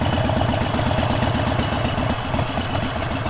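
A Harley-Davidson Sportster XL1200V engine thumps in a steady, loping low rumble while being ridden slowly over dirt and mud, loud and close throughout.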